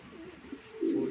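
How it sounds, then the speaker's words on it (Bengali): Damascene pigeons giving a soft, low coo, one brief murmuring call swelling louder at the end, close and quiet. "এখানে আছে এক জোড়া দামাসিন ফুল অ্যাক্টিভ কবুতর"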